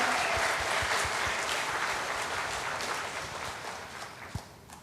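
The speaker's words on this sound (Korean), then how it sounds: "박수 주세요." A church congregation applauds after a soprano's sung performance, a dense, steady wash of clapping that fills the room and slowly fades toward the end.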